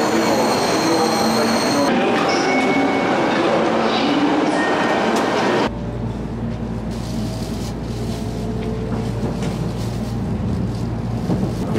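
Japanese shinkansen bullet train running, a loud steady rumble with high wheel whine and rushing air, shifting abruptly midway to a deeper, even drone, no talking.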